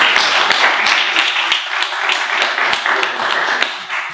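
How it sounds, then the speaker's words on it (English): Audience applause at a Startup Grind event in Cluj-Napoca, a steady, fairly loud wash of many hands clapping with sharp individual claps standing out, continuing throughout. "Please welcome our guest speaker for today, Sergiu Biris, with big round of applause"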